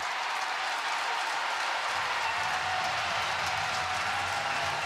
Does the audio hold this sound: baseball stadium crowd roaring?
yes